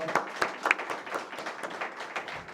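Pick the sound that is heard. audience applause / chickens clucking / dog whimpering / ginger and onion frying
audience applause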